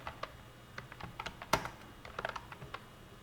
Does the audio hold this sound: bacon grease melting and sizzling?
no